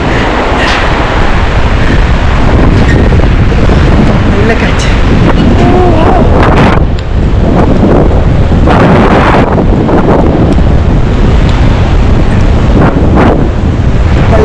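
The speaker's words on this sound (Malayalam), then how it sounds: "ഭയങ്കര കാറ്റടിക്കുന്നുണ്ട് കേട്ടോ" Strong, cold wind on the trek to Everest Base Camp roars and buffets the microphone without letup, with heavy gusts and thumps; a voice can be heard talking beneath the blustering noise.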